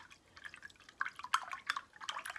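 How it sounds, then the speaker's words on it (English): A paintbrush is swished and rinsed in a small container of water, giving faint, irregular drips and light splashes up close, with no talking. "You're gonna rinse out your brush."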